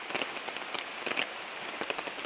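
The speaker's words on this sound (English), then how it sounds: "The rain's just now starting" Light rain begins to fall outdoors where steaks are being cooked, a faint patter of scattered drops tapping on a surface, quiet and without voices.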